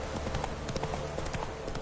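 Roach, a horse in The Witcher 3 video game, clip-clops along at a steady gait, its hooves tapping in a quick, regular rhythm over a dense background of game ambience.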